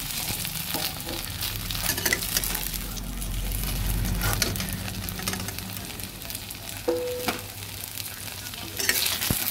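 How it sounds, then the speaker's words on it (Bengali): Steady sizzling of raw bananas frying in hot oil, close and continuous, with occasional stirring scrapes and no talking. "দ্বিতীয় ব্যাচের কলাগুলো আমি ভাজতে বসিয়ে দিয়েছি আর একটু তেল দিয়ে"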